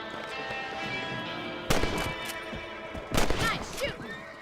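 Rifle shots at rabbits in the Western video game Red Dead Redemption. Two sharp, loud reports crack about a second and a half apart, each trailing into a short echo, over a low game ambience.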